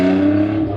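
A restored widebody Honda NSX engine revs loudly with a deep, steady exhaust drone, holding a rumbling tone for a short moment close by.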